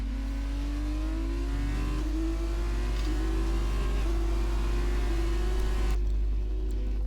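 A Formula 2 race car engine drones at high revs on a qualifying lap at Abu Dhabi, heard on board, its pitch climbing steadily with brief shifts before cutting off sharply near the end.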